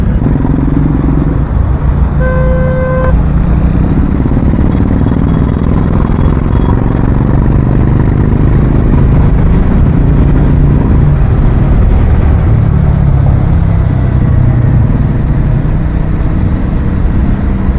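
Motorcycle engine running loud and steady while riding through jammed city traffic, a continuous rumbling drone with clattering road noise and a brief horn-like tone early on.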